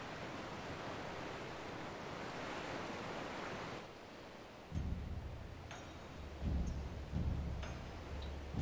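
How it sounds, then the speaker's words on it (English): Crashing sea surf on the approach to Kugano in Final Fantasy XIV, a steady broadband wash of waves that drops slightly and then gives way to several heavier low rumbling swells, with no talk over it. "the crash of the waves as we drew closer to Kugano"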